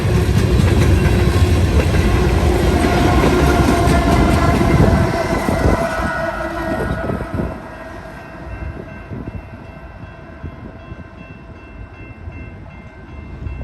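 A freight train hauled by GE locomotives, with an ET44AC pushing as a rear DPU, rolls past on a rail line: a loud, steady rumble and rattle of wagons that thins into lighter clattering of wheels over the final seconds.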